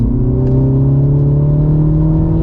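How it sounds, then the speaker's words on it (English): A 2023 Mini Cooper S engine drones loudly and rises steadily in pitch as it revs during a downshift, with a whirring turbo intake tone layered over the rumble. "I can definitely hear more of the engine noise and intake noise and turbo noise coming from the front"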